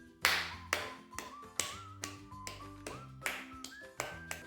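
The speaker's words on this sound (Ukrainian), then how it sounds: "І останнє пограємо, постукаємо в бубен." Tambourine tapped in a children's music moment: a steady series of about a dozen sharp taps with jingly shimmer over a soft musical backing, close and moderately loud.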